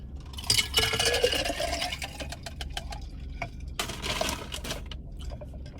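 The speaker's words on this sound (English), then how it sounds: "Pouring my water in my cup" Water poured into a cup at home, a close, steady trickle and splash lasting a few seconds with small clinks, then a second brief pour.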